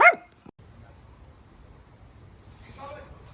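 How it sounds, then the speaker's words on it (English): A dog gives a sharp, loud bark close by, then a second brief yip, followed by a quiet low rumble and a fainter bark-like sound near the end. "Oh, the dog's outside again already. He's gonna start barking."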